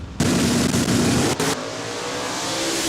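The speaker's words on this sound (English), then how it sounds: "What a launch there is, Arnie." A blue Plymouth Barracuda drag car launches hard at a raceway start, its engine blasting loud and close before easing into a steadier roar as it pulls away.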